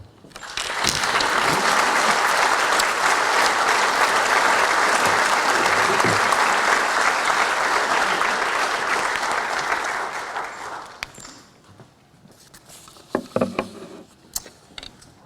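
Sustained applause fills an athletic hall of fame induction ceremony for inductee Terri, a dense steady wash of clapping from a large audience that fades out after about ten seconds, leaving scattered claps and faint room noise.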